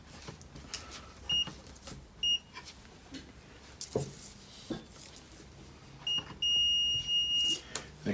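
Several short, high electronic beeps from a Classic Gaggia espresso machine's PID modification sound at irregular intervals, the last one held longer, over quiet clicks and faint background noise.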